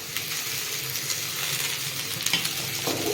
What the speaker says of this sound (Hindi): तो यहाँ पे भिंडी को मैंने लगा दिया है छौंका